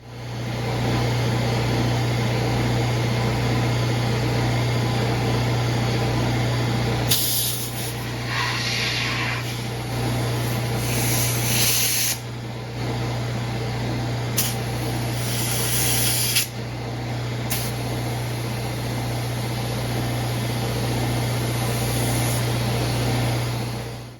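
Air hisses steadily into a bicycle tire inner tube from a compressor or pump over a constant hum, with louder bursts of hissing in places and no talk.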